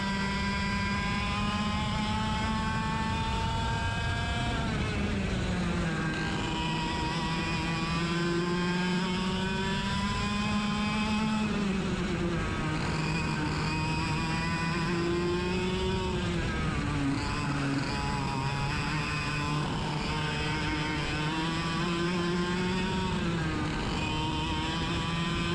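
Several 100cc racing karts drive around a track, their high-pitched engines whining loud and continuous as the pitch rises and falls through acceleration and braking, with no talking.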